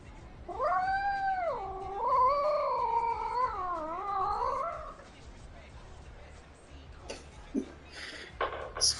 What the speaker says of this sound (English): Spoiled ass cat.